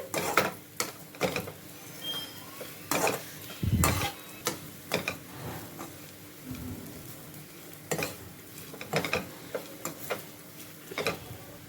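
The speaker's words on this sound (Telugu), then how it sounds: "ఇప్పుడు మనము ఒక 2 మినిట్స్ వరకు ఫ్రై చేసుకుంటే సరిపోతుందండి." Bitter gourd (kakarakaya) slices frying in a pan with salt and turmeric, soft sizzling broken by repeated close scrapes and knocks of a spoon stirring, no voices present.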